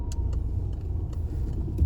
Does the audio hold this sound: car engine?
yes